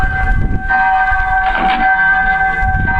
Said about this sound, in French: Pourquoi les cloches sonnent à toutes volées? Elles sonnent pour la libération.